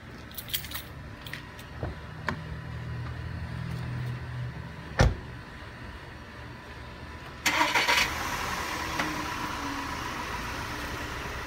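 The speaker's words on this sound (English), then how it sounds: "First of all, you want to start the car." A Volkswagen Tiguan's engine is started: a few faint metallic jingles and a sharp click come first, then the engine catches abruptly and settles into a steady, fairly loud idle that runs to the end, with no talking.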